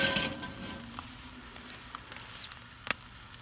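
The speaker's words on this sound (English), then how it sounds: "And we're gonna let that butter melt." Butter melting in a skillet over a Weber kettle grill fitted with a Slow 'N Sear makes a steady, soft sizzling hiss with scattered small pops and one sharper crackle near the end, with no voices.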